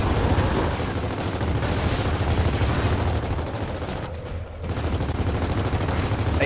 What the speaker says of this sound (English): Could you stop shooting, sir?